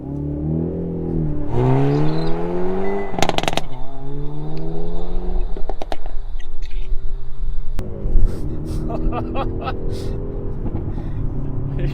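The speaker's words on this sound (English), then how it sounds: "You hear that exhaust? That sounded awesome. Just pop, pop, pop, pop, pop." A 2021 Hyundai Veloster N hot hatch with a 2-litre turbo four-cylinder and manual gearbox revs hard close by, its exhaust rising and falling through several pulls with crackling pops between, while a person talks over it.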